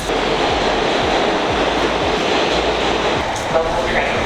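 A New York City subway train rides along with a loud, continuous rumble and hiss of wheels on track, with rhythmic clacks repeating every half second or so and a brief squeal near the end.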